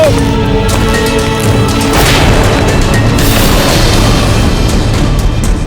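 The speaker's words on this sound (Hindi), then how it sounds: "किसने चलाई हमारी तोप?" A cannon booms amid a battle scene from a Hindi historical drama about Maharana Pratap facing Mughal forces, followed by a loud, sustained rumbling roar that fills the whole stretch.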